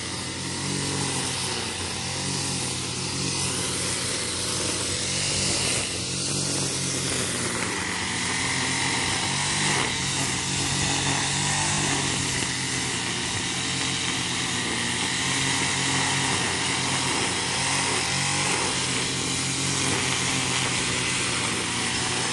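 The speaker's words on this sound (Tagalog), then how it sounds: "Nag-grass cutter na sa lupain ni ate." A grass cutter mowing overgrown land in a banana grove drones steadily and loudly for the whole stretch, a constant high-revving small engine with no pause.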